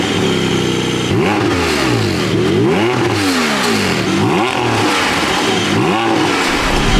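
Porsche 718 Cayman GT4 engine revving hard, a loud close series of rising and falling throttle blips that repeat every second or so, with mechanical clatter underneath and no talk.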